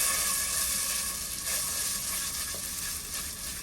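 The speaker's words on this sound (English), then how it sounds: "Now I'm going to start to fry the fritters" Vegan pumpkin fritters fry in olive oil over low heat, giving a steady, close, bright sizzle with soft crackles that runs without a break and without any talk.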